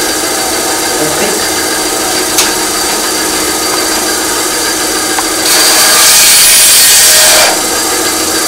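Band saw cutting through a length of PVC, a steady continuous hiss and rasp that swells louder for a couple of seconds near the end, with faint background noise before it.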